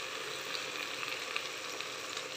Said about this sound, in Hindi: प्याज और टमाटर में कभी अच्छी तरह घी में फ्राई कर लेती हूँ